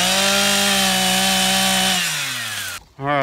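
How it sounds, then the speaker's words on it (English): Echo chainsaw running while cutting trees for rough-cut lumber: a loud, steady buzzing whine for about two seconds, then the engine drops toward idle, cuts out briefly and revs back up. "this chainsaw, I mean, it's doing really good. So I have no complaints or gripes about it right now. It's running really good."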